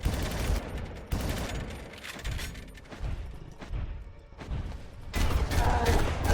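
Scoped assault rifle fire in the video game Far Cry, heard as repeated loud bursts of gunfire across a volcano battle, with dense overlapping shots and crackling impacts throughout.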